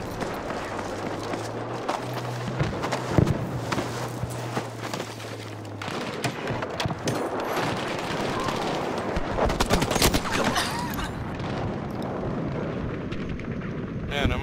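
Battlefield V gunfire in a Rotterdam Conquest match, with sharp shots cracking out repeatedly across a dense, noisy battlefield mix, some bursts close and loud, others farther off, over a steady wash of combat noise.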